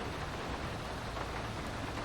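Steady rain pours down in the video game GTA 5, a dense, even hiss of falling water that holds at the same level throughout with no voices over it.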